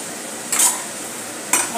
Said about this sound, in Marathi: अशा प्रकारे आपण मीडियम फ्लेमवर हिला जरा शेकून घेऊया।